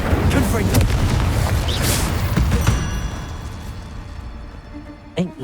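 An explosive Confringo spell in Hogwarts Legacy goes off with a dense, booming burst that rumbles and slowly fades over several seconds, with another faint pop near the end.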